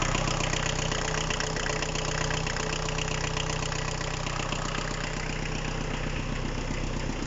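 A Kubota Saturn X20 tractor's diesel engine, fitted with four glow plugs, idles steadily at close range, a dense, even knocking hum holding constant throughout with no talk.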